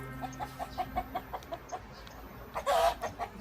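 Chickens cluck in short, repeated calls at a steady pace inside a coop at a rural farmhouse, with a louder burst of squawking near the end against a quiet background.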